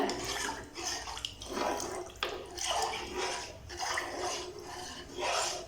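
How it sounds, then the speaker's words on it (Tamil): Eight cups of water pour in repeated bursts into a cooking pot for sambar rice, a splashing rush that swells and eases several times, close by with no talking. "ஸோ 8 கப்பு தண்ணி இதில் சேர்த்துட்றேன்."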